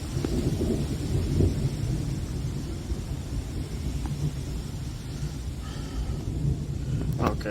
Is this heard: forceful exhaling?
no